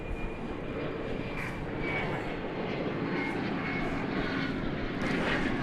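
A CRJ-701 regional jet arriving at Dallas Fort Worth airport, flight 4934 from Durango, its engine roar continuous and fairly loud with a faint whine, steady across the whole stretch.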